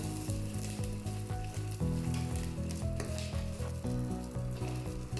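Dry red chillies sizzling in a pan while making chutney powder, a soft continuous frying hiss that sits under a louder rhythmic music track playing throughout, with no talking.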